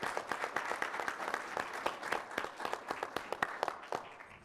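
An audience claps at a business talk, with distinct, fairly close hand claps forming a lively, uneven patter that runs steadily throughout.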